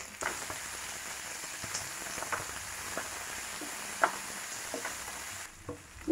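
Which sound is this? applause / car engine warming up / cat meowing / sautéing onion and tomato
sautéing onion and tomato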